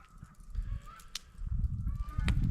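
Loud goose-like honking calls from a bird at dawn in a northern rainforest campsite, repeated bursts over low rumbling background, fairly near.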